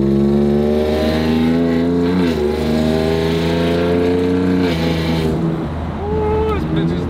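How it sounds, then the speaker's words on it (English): A loud Ford F-150 Raptor fitted with full bolt-ons revs close by with a strong, droning exhaust note while its tires spin. People talk over the engine throughout. "Wait, was that just spinning tires?"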